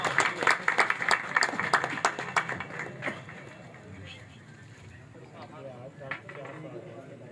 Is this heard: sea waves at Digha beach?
no